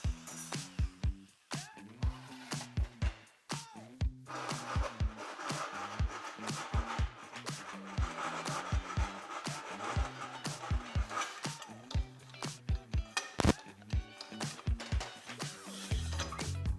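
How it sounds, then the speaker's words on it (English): A notched metal tube is deburred by hand for an Acura RSX air ride installation, with repeated rhythmic rasping strokes close up and short pauses between passes. "I'm gonna go ahead and deburr this guy"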